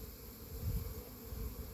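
Honey bees buzz around the hives in a soft, continuous drone, faint and steady, with no voices.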